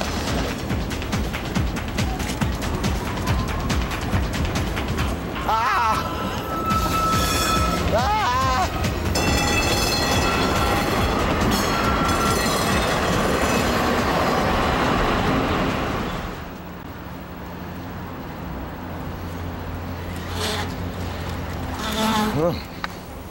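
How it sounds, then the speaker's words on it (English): A tram rolls along an Amsterdam street in dense city noise, with rumbling, squeals and passing traffic over about fifteen seconds before the sound thins and a quieter stretch follows. "you gotta watch out for the trams when you're riding a bike around here"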